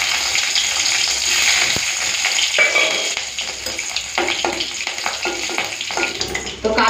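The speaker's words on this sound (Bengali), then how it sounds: "তেল গরম হয়ে গেছে, এখন দিয়ে দিচ্ছি কালো জিরে ফোড়ন, কয়েকটা চেরা কাঁচা লঙ্কা," Black cumin seeds and slit green chillies sizzle loudly in hot oil, a continuous close crackling hiss with occasional stirring sounds.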